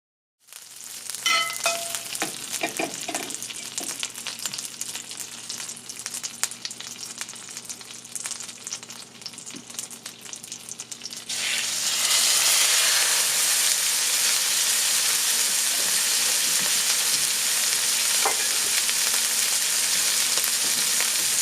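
A ribeye steak hits a hot pan: quieter pan crackle and clinks first, then a loud, steady, close sizzle that swells midway and holds to the end.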